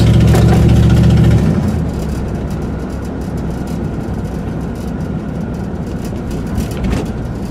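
A Buick engine with new spark plug wires idles steadily and close by, a loud running note at first that settles into an even, continuous hum with no talk over it.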